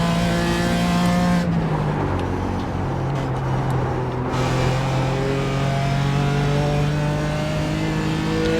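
A BMW GT4 race car at Summit Point in iRacing: the engine drones loudly and steadily, the pitch dips as it shifts down through a corner, then climbs again as it accelerates, with faint tire noise and no talking.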